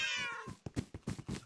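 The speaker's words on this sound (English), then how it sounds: "Oh, that's my cat." A cat gives a drawn-out, loud meow up close, followed by several shorter muffled bumps and thuds, with no one speaking.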